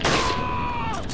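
A single gunshot in the survival horror game Resident Evil 4: a sharp, loud blast at the start, followed by a high, ringing tone that slowly fades and drops in pitch over about a second.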